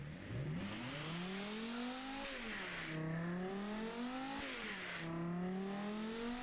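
A car engine in an engine-building video game revs up and down repeatedly with rising and falling pitch, a steady loud game sound with no talking.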